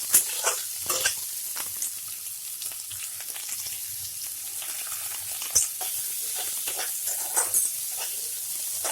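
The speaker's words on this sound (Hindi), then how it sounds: "कच्ची चीज़ ली हुई है, फ्रोजन वाली नहीं ली है, इसलिए हम इसे 2 मिनट तक तेज आंच पे भूनेंगे ताकि ये हाफ कुक हो जाए।" Raw, not frozen, vegetables frying over high heat for veg noodles: a continuous close sizzle and hiss, broken by occasional clanks of stirring in the pan.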